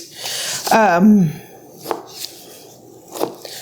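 A sharp Okingjoy kitchen knife chunking chicken meat on a cutting board makes a few crisp, separate cuts against near-quiet, with a short tonal squeak-like sound early on.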